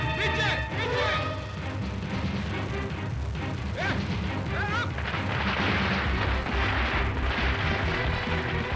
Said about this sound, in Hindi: ये गोली चलाई है, एवरीबॉडी डक,